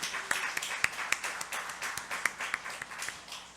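A church congregation gives a short round of applause for a baby's first stage appearance at a Sunday service. Scattered, moderately close hand claps come in a quick, uneven patter.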